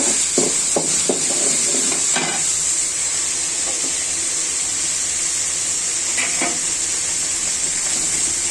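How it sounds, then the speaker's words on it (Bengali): Spice paste for a Bengal-style dish of shola kochu with mashkalai dal fries in a pan with a steady loud sizzle, broken early by a few scraping stirs and clinks of the spatula. "মশলাটা একটু ভালো করে কষিয়ে নিতে হবে"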